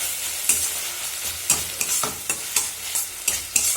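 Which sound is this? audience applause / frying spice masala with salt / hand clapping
frying spice masala with salt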